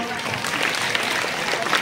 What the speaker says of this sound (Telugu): అరే గట్టిగా చప్పట్లు కొట్టండి పిల్లలు